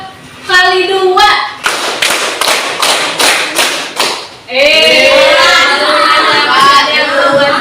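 A group claps hands together in a counting game, a cluster of loud, sharp unison claps in a quick rhythm, bracketed by a voice speaking before the claps and a burst of voices just after.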